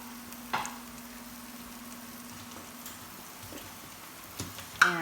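Potatoes fry in a pan for a potato and egg meal: a faint, steady sizzle with a low hum underneath and a few sharp clicks near the start and end.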